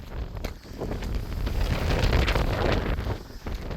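Wind buffets across an open farm field beside a dike on a rainy day, a steady, loud rumbling gust that swells and eases throughout with no pause.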